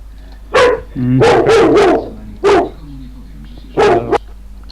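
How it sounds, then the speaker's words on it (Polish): Dog barking loudly and close, a few separate woofs followed by a quick cluster of barks, then two more single barks, with quiet pauses between them. "Piesek."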